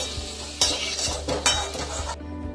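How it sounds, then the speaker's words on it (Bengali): Halved potato pieces fry in mustard oil with a close, crackling sizzle, punctuated by metal utensil scrapes and clinks against the pan before the sound cuts off abruptly. "আলুগুলো লাল করে ভাজা হয়ে গেছে, আলুগুলো তুলে নেব।"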